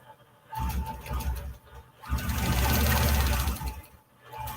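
A longarm quilting machine stitches in two humming, rattling runs separated by short pauses, steady and close, with a faint background chirp.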